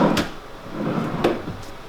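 A wooden drawer in a renovated Disney's Coronado Springs Resort junior suite slides open or shut, giving two short, close knocks about a second apart in a quiet room.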